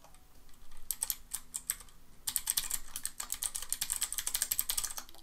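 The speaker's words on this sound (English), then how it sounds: "I have the clickiest keyboard" Fingers type quickly on a clicky computer keyboard, a close run of sharp irregular keystrokes with a brief pause before a denser burst.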